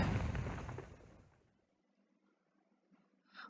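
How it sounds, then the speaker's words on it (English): A loud explosion bursts at once, a heavy booming blast that rumbles and decays over about a second and a half into near silence, followed by a faint rustle and a brief sharp crackle at the end. "and in that instant, explosion!"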